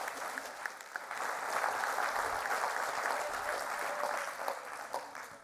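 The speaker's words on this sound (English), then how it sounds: "we got time for more applause for Jay." Audience applause at the 2023 Games for Change Festival, a steady sustained clapping from a crowd lasting throughout, moderately distant and even in loudness.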